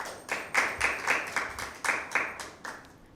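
Clapping bursts for team B at a Bible quiz, about nine rhythmic claps or pulses in quick succession, moderately loud and near, fading slightly toward the end with no talk over them.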